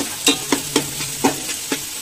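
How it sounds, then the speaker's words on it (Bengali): Finely chopped onions fry in hot oil for chicken biryani, with a spoon stirring and scraping the pan in several quick, evenly spaced clinks over a soft sizzle. "পেঁয়াজ দিয়ে দিলাম পেঁয়াজটা দিয়ে মারবো"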